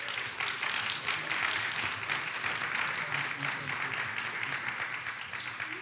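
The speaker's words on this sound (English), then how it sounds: "come on and give Him a hand clap of praise" A church congregation claps in praise during a celebration-of-life service, a sustained, dense wash of applause filling the room, with voices mixed in underneath.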